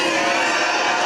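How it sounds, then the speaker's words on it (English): Crowd cheering at a Turning Point USA rally at Auburn University, a dense, loud, continuous roar of many voices with no breaks. "Come on, Auburn, let's get loud, let's cheer, let's do this for Charlie."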